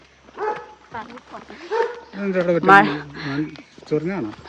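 A dog barks and yips close by in short bursts, mixed with people talking nearby.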